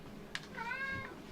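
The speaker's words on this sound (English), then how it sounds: "Let me feed this cat because he's going nuts." A hungry cat lets out one clear, drawn-out meow after a short click, fairly quiet and close, in an otherwise calm room.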